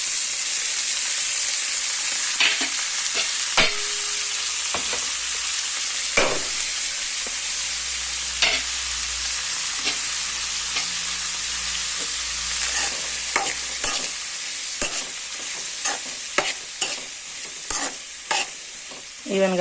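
Chukka kura (sorrel leaves) stirred with salt in a frying pan give a steady sizzle and hiss, broken by repeated sharp scraping clicks of the spoon against the pan, close and continuous throughout.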